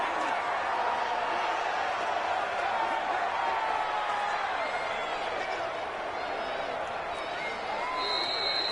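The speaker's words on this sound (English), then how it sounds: "And the home crowd applauding" Home crowd applauding in a stadium in the football video game Madden NFL 20, a broad steady wash of clapping and crowd noise filling the whole stretch at an even level.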